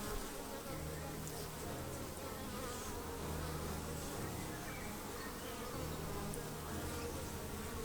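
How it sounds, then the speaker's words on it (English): Close, continuous buzzing of many honey bees swarming around, a dense droning hum with individual bees passing near. "I can hear the drones kicking around me, they're not happy."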